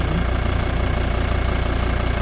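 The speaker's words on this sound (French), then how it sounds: "Le moteur, un 5 cylindres diesel turbo avec une boîte automatique à 6 rapports sur ce 185 chevaux." A 2007 Volvo XC90 D5 five-cylinder turbo diesel with six-speed automatic runs steadily at idle, a dense low rumble with a fast even throb, close and continuous with no talk.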